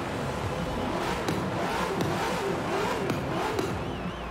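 Car engine revving in the Forza Horizon 4 racing game during a Formula Drift session, a steady, muffled mid-pitched drone held throughout with small surges and no talk over it.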